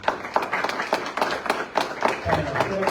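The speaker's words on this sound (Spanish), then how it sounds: "Fuerte las palmas también" Audience applause for a guest doctor at a public talk in Arequipa, a steady mass of hand claps running close and dense throughout the clip, with voices mixed in.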